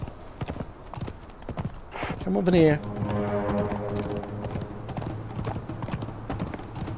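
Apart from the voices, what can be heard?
horse hooves galloping in the video game Conan Exiles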